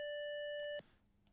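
A Game Boy style chiptune synth plugin in LMMS plays its channel two tone, a single bright buzzy square-wave note held steadily for under a second before cutting off into near silence.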